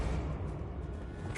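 Bombarda spell cast in Hogwarts Legacy, a short muffled whooshing blast with a low rumble, lasting barely over a second.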